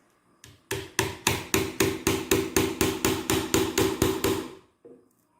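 A nail is hammered into very soft wood with a steady run of about fifteen sharp, evenly spaced hammer blows, close and loud, with no talking.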